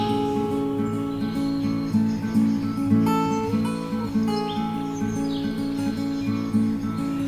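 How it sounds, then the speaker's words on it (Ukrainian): Short house sparrow chirps come and go over a steady, droning musical background, the bird calls fairly faint and partly masked. "горобець."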